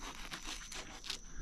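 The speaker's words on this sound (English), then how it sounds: "So I think the best thing to do is just cut through" A knife cuts through a large, thick Maoli banana, giving close, steady tearing and fibrous crunching sounds with a few sharper rips, continuous throughout with no talking.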